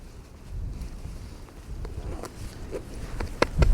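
Gusty outdoor wind buffeting a microphone, low rumbling bursts rising and falling with a few sharper thumps near the end, no talking.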